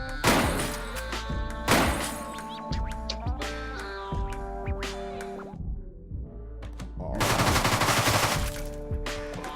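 Rapid bursts of gunfire from the shooter game Deadbolt, loud and close, with dense volleys near the start and end and scattered impacts and crashes between, with no talking.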